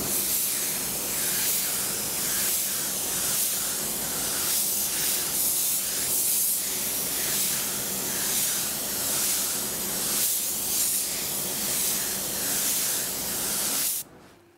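A paint spray gun applies Cromax paint coats to a car, giving a steady, loud, continuous hiss of spraying that holds for most of the stretch, with slight pulsing in intensity, and cuts off abruptly near the end.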